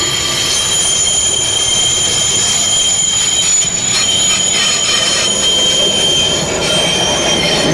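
Loud trams rolling along rails in Gera, with high-pitched wheel squeal and a steady close rumble of passing cars, no speech.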